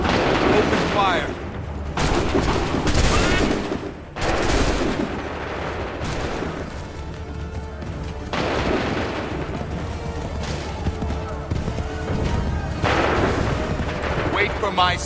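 Massed musket volleys in Assassin's Creed III, loud cracking bursts of many guns firing together followed by rolling booms and battlefield din, with shouted commands around them.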